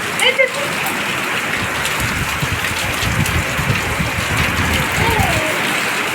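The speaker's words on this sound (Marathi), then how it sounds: "भारी पाऊस आहे ना" Heavy rain pours down in a steady, loud hiss across the whole stretch, with a voice speaking over it.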